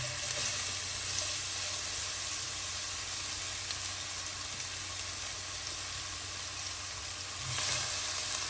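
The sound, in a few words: chopped onion frying in melted butter in a pan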